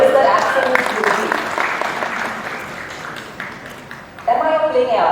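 Audience applause fills a press conference in Mumbai for the Rings of Power series, a dense, steady clapping that slowly thins before a voice starts talking over it near the end.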